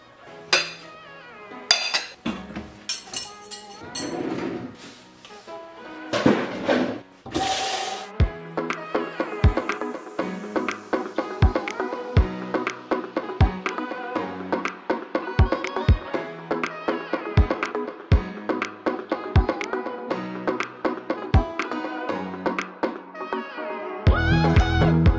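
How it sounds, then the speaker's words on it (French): Dishes being washed by hand in a home kitchen, with repeated clinks and clatters of plates, pots and cutlery scattered through the stretch alongside running activity, no talking. "je vais faire de la vaisselle"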